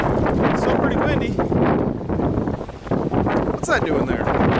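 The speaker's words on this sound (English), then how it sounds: "Still pretty windy." Strong wind from Tropical Storm Harvey gusts in Galveston, a loud, steady buffeting roar across the microphone with brief dips, while a voice talks over it.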